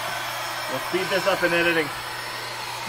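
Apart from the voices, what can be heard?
electric air pump inflating a pool float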